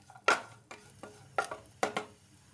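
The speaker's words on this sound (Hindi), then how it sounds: "अब इसमें हम डालेंगे किशमिश, बहुत जल्दी रोस्ट होती हैं, चलाते रहेंगे।" Raisins roast in ghee while a spoon stirs them against the pan, giving several sharp metallic scrapes and clinks over a faint low sizzle, close and fairly quiet between strokes.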